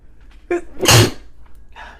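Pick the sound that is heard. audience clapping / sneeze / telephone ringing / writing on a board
sneeze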